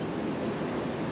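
Water rushes through a boat lock gate, a steady broadband roar like surf, close and unbroken throughout with no voices.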